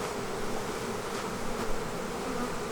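Bees from an open beehive during a move to a new location, a steady close swarm buzz with no let-up, filling the whole stretch.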